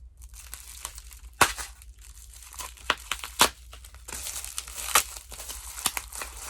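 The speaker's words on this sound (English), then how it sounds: "If I can just peel the tape, that would be much easier." Packing tape peeled off a package during an unboxing of store items, heard as crinkly plastic rustling broken by several sharp tearing rips, close and alone.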